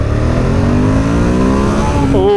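2016 Ducati Monster 1200R engine revving hard, a loud close roar climbing rapidly in pitch over a couple of seconds, then dropping off abruptly at the end.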